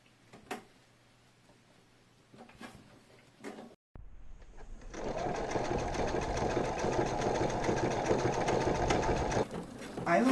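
A sewing machine runs close by, stitching a fabric shoulder bag in a long continuous run at an even pace after a few scattered clicks and taps of handling.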